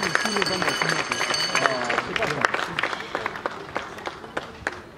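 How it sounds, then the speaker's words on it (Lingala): A crowd applauds and cheers loudly at a gathering of comedians honouring the late artist Kadiombo, with dense steady clapping and babble lasting throughout, sharp claps standing out near and far. "Est-ce que vous pouvez applaudir très très fort pour M. Masika Diombo à la vidéo?"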